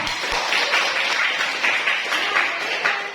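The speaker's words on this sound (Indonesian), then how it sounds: "Kita beri aplaus untuk kelompok 3" An audience in a classroom gives a group of presenters a round of applause, steady moderate clapping from many hands that lasts a few seconds and fades at the end, with no talking over it.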